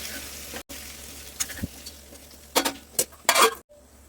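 Chicken fries in oil in a pan for chicken pulao, giving a low sizzle broken by several loud bursts of spattering and a few clinks of a utensil against the pan, with brief dropouts.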